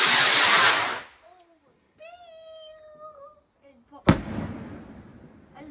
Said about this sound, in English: I love fireworks, they're so good.